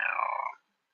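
A house cat lets out a drawn-out, whining vocal sound that falls slightly in pitch and stops abruptly after about half a second, close and fairly clear, with no talk.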